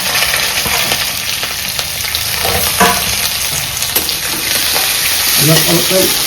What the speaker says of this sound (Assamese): তো পিঁয়াজটো আমি লাইট ব্ৰাউন হোৱালৈকে ভাজি ল'লোঁ